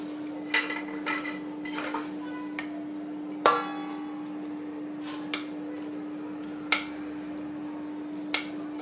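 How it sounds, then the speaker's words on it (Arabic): A metal mesh strainer sifts ground ingredients for sellou in a home kitchen. Scattered light metallic clinks and taps ring out over a constant electrical hum, with one sharper rattle partway through. "هنا خديت هاد الصفاي هادي اولا الشبكه غادي نغربل فيها"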